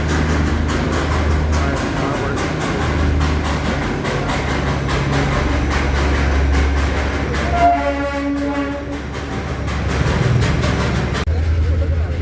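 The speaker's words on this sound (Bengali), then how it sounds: "বাতাসিয়া লুপ আমরা টয় ট্রেনে করে বাতাসিয়া লুপ চলে এসেছি" The Darjeeling toy train rumbles and rattles steadily on its way to Batasia Loop, with a horn sounding partway through and people talking over the running noise.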